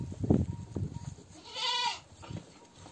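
A goat gives one loud wavering bleat in a rural setting, with muffled movement and bumping noises before and after it.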